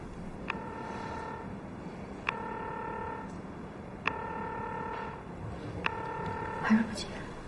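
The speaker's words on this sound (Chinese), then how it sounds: "你给你姐打个电话" A telephone rings out on an unanswered call: four evenly spaced ringback tones with quiet pauses between them, heard alone over faint room noise.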